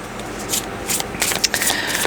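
Tarot cards being shuffled in a few quick riffling bursts, crisp papery flutters close by, with no voices.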